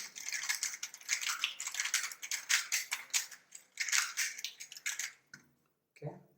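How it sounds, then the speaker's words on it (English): Rubik's Cube turned rapidly by hand in a random shuffle, a dense run of close plastic clicks and rattling layer turns for about five seconds, then a brief pause and a final faint handling sound. "Okay, so the cube is shuffled now."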